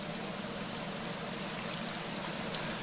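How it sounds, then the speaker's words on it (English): Steady rain falls in the Hirschfelden hunting reserve of the video game Hunter: Call of the Wild, a constant, even hiss of drops on surfaces with no breaks or voices. "It rains, you know. Definitely rains."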